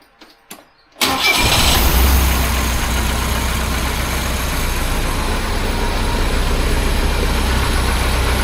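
A 1976 BMW 2002 with a carburettor and a push-button start fires up after a short silence. It then settles into a steady, smooth, loud idle that runs on its own with no talk over it.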